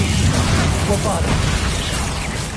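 A Bombarda spell explodes in Hogwarts Legacy, a loud, dense, continuous blast roar filling the short moment with rumbling low end and crackling debris.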